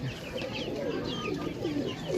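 Pigeons coo softly and continuously at close range, with low rolling calls repeating over a steady background hum.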